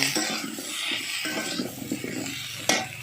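A utensil stirs a salted fish curry with turmeric in a pan, making scraping, shuffling strokes over a light sizzle, with a sharp metallic clink near the end.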